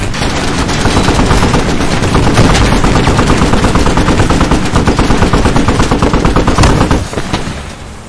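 A .50 caliber machine gun fires in a video game in long, dense, continuous bursts, loud and close, before the firing cuts off and fades near the end.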